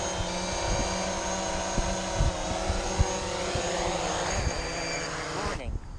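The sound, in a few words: drone flying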